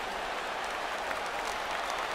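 A simulated baseball stadium crowd of over 39,000 fans on their feet in MLB The Show 17 gives a steady, dense roar of cheering and applause that holds at even loudness throughout.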